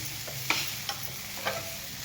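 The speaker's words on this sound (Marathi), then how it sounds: "ह्याला पण चांगला असं फ्राय करून घेऊया" Onion and tomato fry in a pan with a steady hiss, while a spoon scrapes and stirs, giving three or four short sharp clinks against the metal over the sizzle.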